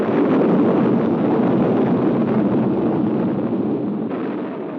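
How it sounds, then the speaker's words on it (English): A recreated sound effect of the Krakatoa volcanic eruption on the island of Krakatoa: a loud, sustained roaring rumble that holds steady and slowly fades, with no voices. "It was our version of the terrific volcanic explosion of the island of Krakatoa."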